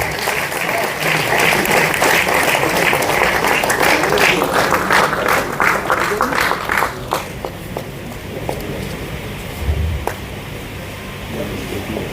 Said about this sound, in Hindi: तालियां आपकी बिल्कुल कम लग रही है।